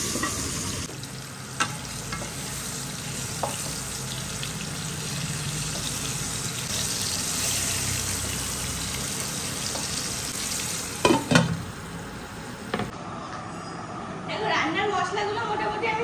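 Food fries in a pan on a home kitchen stove with a steady, close hiss and sizzle. Occasional clinks and a brief clatter cut through, and faint voices sit under the sizzle.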